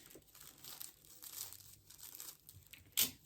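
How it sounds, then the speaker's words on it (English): Interfacing for a New Look N6704 shirt being cut at a sewing table: faint, close crinkling and rustling with soft tearing-like scrapes, ending in one sharper crisp burst, no voices. "I have to cut my interfacing"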